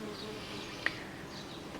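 Honey bees humming faintly in a polystyrene nuc hive box, a soft steady drone with one brief sharp tick midway.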